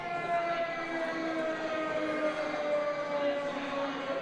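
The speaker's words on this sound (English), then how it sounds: "Sirens wailing throughout the hall." Siren wailing through a wrestling arena hall, a steady sustained tonal wail with slowly drifting pitch heard over crowd ambience.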